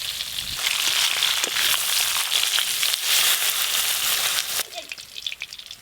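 Fish frying in spiced oil sends up a steady, dense sizzle and spatter at close range, dropping to a quieter, sputtering crackle near the end.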